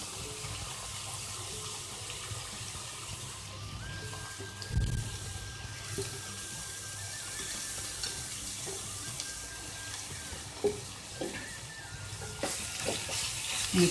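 Beetroot goes into a pan of onions frying until translucent, with a low sizzle, a thump as it lands and a few scrapes of stirring.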